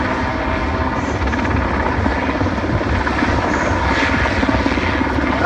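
Sea King search and rescue helicopter with two Rolls-Royce gas turbine engines, a loud, continuous turbine roar and rotor thrum running steadily and close throughout, with a narrator's voice faintly over it.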